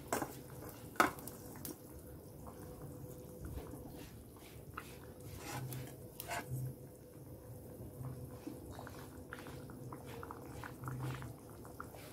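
Tangra fish simmering in a pan of curry gives a soft, continuous bubbling and sizzling, faint and close, broken by occasional clinks and scrapes of a spoon against the pan.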